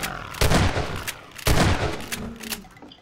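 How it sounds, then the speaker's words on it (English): Two loud, close shotgun blasts of buckshot in Half-Life 2, each a sharp boom with a short ringing tail, about a second apart, followed by quieter clatter. "they give you so much buckshot ammo you can just"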